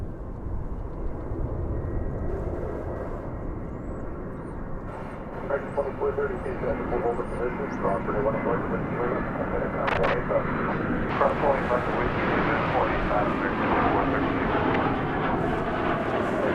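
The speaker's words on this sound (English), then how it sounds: "There goes a flight from Milwaukee, Wisconsin. An Airbus A320, flight 2581." An Airbus A320 jet takes off at DFW Airport with a broad, continuous engine roar that builds and swells, heard from a distance under a voice talking over it.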